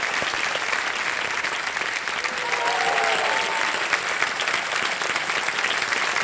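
Studio audience applause on a television quiz show set, a steady, dense roar of clapping throughout, with music faintly mixed underneath.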